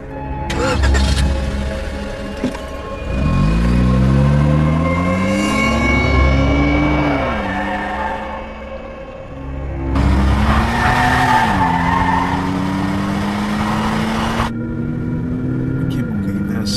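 A car revs and pulls away with rising engine whine, tire squeal and skidding, loud and close, as someone talks over it.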